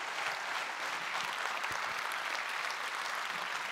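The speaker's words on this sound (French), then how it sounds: "Applaudissements pour tous les deux." A seated audience claps continuously through an evening event in Wallonia, a full, even patter of many hands at moderate level with no speech on top.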